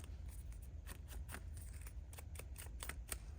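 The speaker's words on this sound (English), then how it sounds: "I'm going to just cut out just one little notch" Paper snipped with scissors while making a fold-out flippy book craft, a quick series of sharp, close cutting clicks over about three seconds, with no talking.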